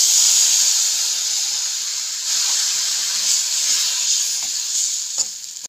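Gram flour mixture with milk cream being stirred in a hot pan, a loud steady steamy hiss and sizzle with a few soft utensil knocks near the end, no talking.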